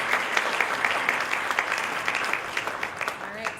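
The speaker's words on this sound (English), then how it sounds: "Can we get a round of applause for Dr. Rice as well for facilitating?" Audience at a panel event on financial literacy breaks into steady applause, dense clapping sustained at close range for a few seconds without letting up.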